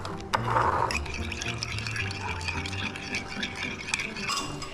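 Powder being stirred into water in a container for a buko pandan dessert, a continuous close swishing and sloshing with faint clinks of a utensil against the sides, no talk over it.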